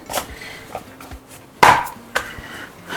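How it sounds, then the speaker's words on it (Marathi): A knife chops cooked dough pieces for varan phal on a board, a few sharp, close cuts spaced irregularly, with one louder strike in the middle. "ह्याचे पण तुकडे करून घेते"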